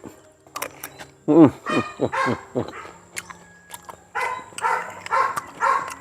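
A dog barks several times in short sharp bursts, then yips and whines, close by, with some background noise between barks.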